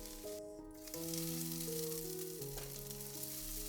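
Okra pan-frying in oil in a stainless steel pan, a steady soft sizzle running throughout under a faint sustained tonal background.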